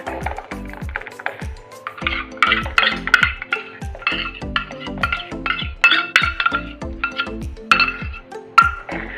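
A spoon stirs date paste into freshly boiled milk for custard in a metal pot, making a steady run of repeated clinks and scrapes against the sides, close and clear with no talking.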